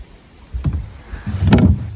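A wooden canoe paddled one-handed on the Yukon River, two close paddle strokes with a knocking thud and a watery swish, otherwise quiet.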